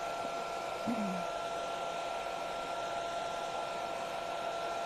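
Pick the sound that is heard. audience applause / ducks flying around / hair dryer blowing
hair dryer blowing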